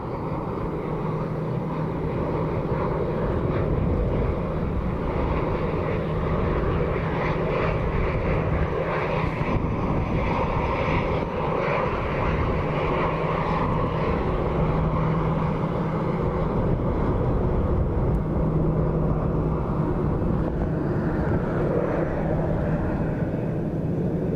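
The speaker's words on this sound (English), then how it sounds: "UPS 767, I think, cleared to land." A UPS Boeing 767 lands at Dublin Airport in a storm, its jet engines a loud, sustained roar mixed with heavy wind rumble, continuous throughout.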